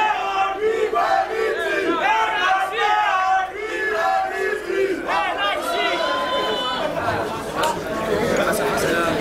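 A packed wrestling event crowd roars and chants in loud, sustained waves of shouting and cheering, dense and close, with many voices overlapping throughout.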